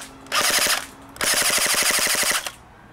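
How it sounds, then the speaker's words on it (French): Galaxy G.5K (MK5) airsoft replica firing full-auto: two rapid bursts of sharp, mechanical clattering shots, a short one then a longer one, loud and close with a faint motor whine between, no talking. "ce petit test de tir de la MK5 de chez Galaxy."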